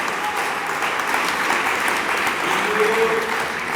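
Steady applause from a church congregation, dense and continuous clapping that fills the room at an even level throughout, with a faint tonal murmur near the end.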